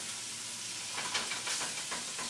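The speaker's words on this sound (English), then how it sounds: "we're going to let those get brown on one side, and then we're going to turn them over" Pork tenderloin browning in a hot pan: a continuous, fairly quiet sizzle and hiss with a few brief spatters and crackles toward the middle, with no talking.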